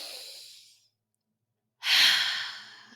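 A person takes a deep breath: an audible exhale trails off into silence, followed by a strong, close inhalation.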